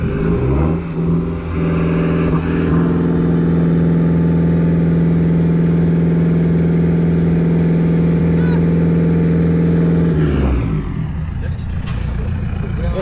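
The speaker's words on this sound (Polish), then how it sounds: "Szybki test wydechu." A BMW E81 120d diesel engine revs hard and holds a loud, steady exhaust roar for several seconds, then drops back to a rough idle.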